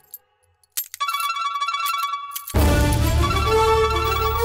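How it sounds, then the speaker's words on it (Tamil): A phone ringtone plays in a Tamil TV drama scene, a melodic electronic ring starting after brief quiet and swelling louder, continuing steadily to the end. "மாமா ஃபோன்."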